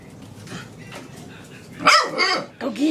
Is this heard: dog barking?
yes